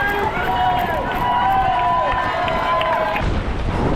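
Spectators lining the Paris Marathon course cheer runners in a loud, sustained roar of crowd noise, with shouts and whistles rising over the steady din as the field passes by.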